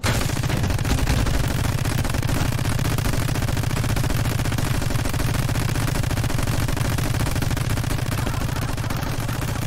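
Turrets in the My Friend Pedro video game fire guns in a steady, rapid stream, a dense unbroken rattle of shots that stays loud throughout.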